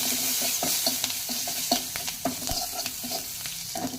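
Green chillies and curry leaves frying in hot oil, with a steady close sizzle broken by regular scraping stir strokes, seasoning for a sprouted horse gram bassaru; no voices.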